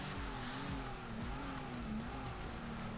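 In the video game Torque Drift, a car's engine revs hard through a drift, a steady loud whine rising and falling in pitch with rumbling undertones and no speech.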